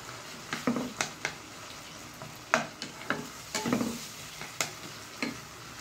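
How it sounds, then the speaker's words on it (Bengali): Chopped onions frying in a pan for chicken curry, a steady sizzle broken by repeated sharp scraping clacks of a spatula stirring, close and moderately loud with no voices. "পেঁয়াজটাকে একটু লাল লাল করে ভেজে নিতে হবে"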